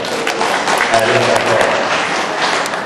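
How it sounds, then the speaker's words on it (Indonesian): Audience applause at a halal bi halal gathering in Temanggung, a steady wash of clapping that fills the clip, with a voice faintly audible partway through. "tepuk tangan Pak Janto."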